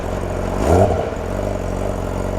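A brand-new motorcycle engine idles low and steady, then gives a quick rev that swells and falls back to a rumbling idle.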